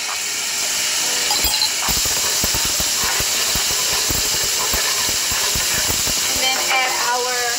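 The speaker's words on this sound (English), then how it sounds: "And we're gonna add our minced garlic." Minced garlic hits hot oil in a pot roast pot and sizzles as a loud, steady hiss close up, with rapid crackles and pops spread through it.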